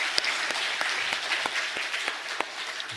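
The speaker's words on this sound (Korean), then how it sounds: "하나님께 영광의 박수 올리겠습니다" A church congregation claps together during a Sunday worship service, a dense steady applause with sharp individual claps popping out, sustained and close for the full stretch with no talking.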